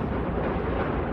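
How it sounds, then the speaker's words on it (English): A sustained loud roaring rumble from explosions at an industrial factory site outside Detroit, Michigan, dense and continuous with no pauses before it cuts off abruptly. "Massive explosions lighting up the sky in Michigan"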